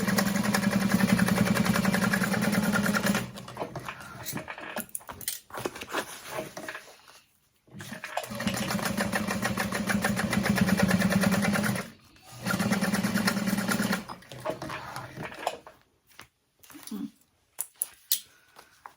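A sewing machine top stitches a seam open on a cross-body sling bag, its steady mechanical whir running in several bursts separated by short pauses and quiet handling sounds.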